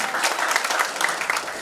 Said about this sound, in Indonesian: Kita beri tepuk tangan buat